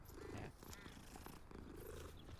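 A cat in the video game Hogwarts Legacy purrs steadily and close up, in a continuous rhythmic rumble of pulsing breaths with no voices over it.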